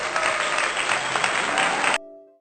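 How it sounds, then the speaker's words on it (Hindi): A village crowd applauds loudly and continuously for about two seconds, a dense wash of clapping that cuts off abruptly into quiet tones. "पूरा गांव तालियों से गूंज उठा"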